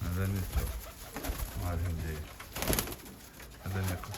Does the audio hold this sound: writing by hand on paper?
no